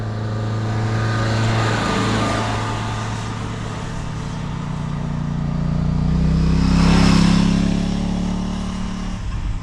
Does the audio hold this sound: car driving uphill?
yes